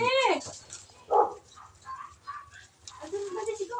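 A dog barks and whines in a few short, sharp bursts, including a falling whimper at the start, with quiet background noise and some voices in between.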